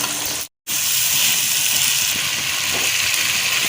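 Green peas hit a hot pan and set off a loud, steady hiss of sizzling steam that carries on evenly after a brief cut.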